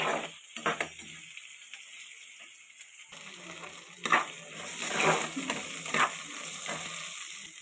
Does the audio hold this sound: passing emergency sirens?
no